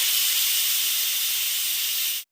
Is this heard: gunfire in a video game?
no